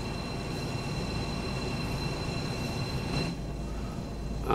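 A BR 218 diesel locomotive in Train Sim World 4 rolls over factory-siding tracks at the Glanzstoffwerke works, giving a steady rumbling rail noise with faint whining tones, close and continuous with no talking.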